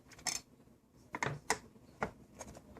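Phillips screwdriver backing screws out of an armrest hinge, giving a few faint, separate clicks and ratcheting ticks spread across a quiet background, with no speech.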